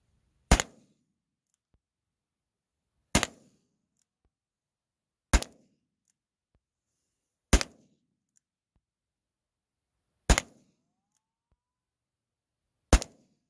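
Six loud, close gunshots from handloaded ammunition crack out one at a time, spaced about two to three seconds apart. Each has a brief ringing tail, with near silence between them.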